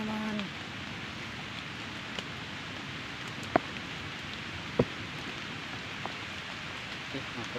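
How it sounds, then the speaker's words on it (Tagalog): Steady outdoor rain at a bird-hunting hideout, a dense, even patter with a few louder drops standing out. "Malakas ang ulan mga kabagis."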